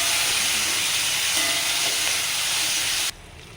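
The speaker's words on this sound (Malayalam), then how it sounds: "വെളിച്ചെണ്ണ ചൂടായി. ഇനി അരിഞ്ഞ് വെച്ചിരിക്കുന്ന ഇതെല്ലാം ഇട്ട് കൊടുക്കാം." Chopped tomato, onion, garlic and shallots sauté in hot coconut oil with a loud, steady, close sizzling hiss that cuts off abruptly near the end, no talk.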